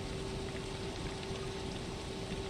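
Rain falls during a medevac flight from Big Bear Airport to Oxnard, heard as a dense, even hiss with a steady tone running through it and no voices.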